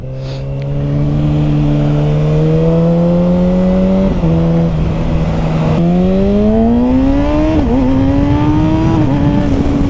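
A 2021 Kawasaki Ninja ZX-6R sport motorcycle engine with an M4 Street Slayer slip-on exhaust drones loud and close while riding, pitch climbing steadily through the gears with brief dips at each shift.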